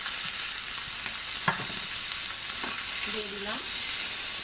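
Chicken with papaya, carrot and yardlong beans sizzling in a pan, a steady close frying hiss throughout with a few stirring scrapes and a brief spoken phrase near the end.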